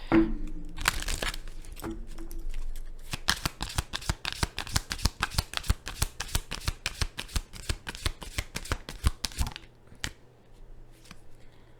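A Moonology Oracle card deck is shuffled close up. Fast riffling flutters repeat steadily for several seconds, and a few papery handling rustles come before and after.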